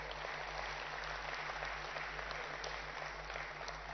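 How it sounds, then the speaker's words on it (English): An audience at an EV expo applauds steadily, a dense even patter of many hands clapping at moderate distance, with a low hum running underneath. "I think she deserves a bigger round of applause, please."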